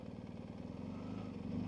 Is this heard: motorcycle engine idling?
yes